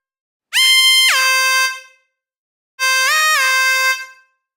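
Electro synth lead gives two loud held blasts, each bending up in pitch at its start, bright and brassy like a horn, with a short silence between them.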